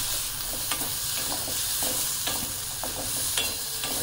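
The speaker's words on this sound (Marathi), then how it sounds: "आता मी त्याच्यामध्ये हरभरे टाकते आहे आणि ते छान परतून घेते." Chickpeas sautéed in a spiced masala over low heat, a soft continuous sizzle broken by periodic spoon stirs and scrapes against the pan, close and without talking.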